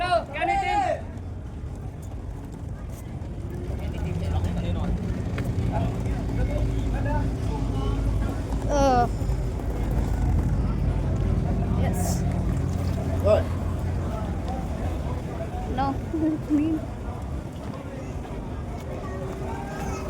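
A tourist boat on Ha Long Bay gives off a steady low engine drone that holds for the whole stretch. It runs under people talking nearby and background chatter, with a few brief sharper sounds on top.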